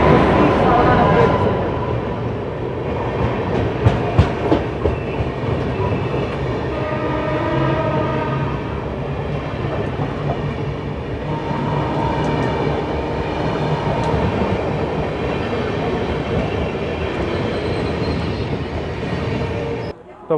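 An old ICF-coach Asansol–Sealdah Intercity Superfast Express rolls along at speed, its loud, continuous rumble and rattle filling the carriage, with wheel clicks and a distant horn.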